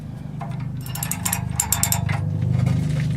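Ratchet wrench turning an O2 sensor socket on the exhaust of a 1998 Chevy Lumina, a steady run of close, rapid clicking pawl ticks over a low mechanical hum, with no talking.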